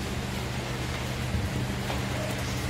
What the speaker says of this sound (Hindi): भाइयों देखिए ऊपर सीट पर बारिश पड़ रही है, आवाज़ कर रही है